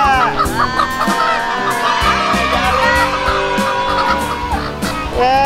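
Pet chickens cluck and squawk continuously and fairly close, busy and layered with other loud background noise throughout.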